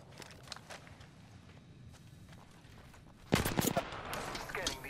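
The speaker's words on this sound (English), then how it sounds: "I'm taking fire." Apex Legends gunfire: after a few seconds of faint footsteps and movement, a loud, dense burst of rapid automatic shots breaks out close by and keeps rattling to the end.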